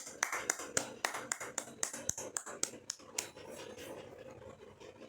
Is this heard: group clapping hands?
yes